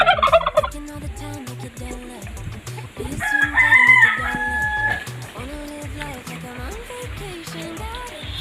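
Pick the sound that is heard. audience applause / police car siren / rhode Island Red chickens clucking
rhode Island Red chickens clucking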